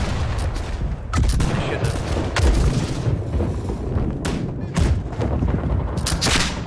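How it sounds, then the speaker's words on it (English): Ship cannons firing in the naval video game Blackwake, a dense fusillade of booming shots and gunfire with repeated loud bursts throughout, voices faintly mixed in. "Cannon is ready to fire."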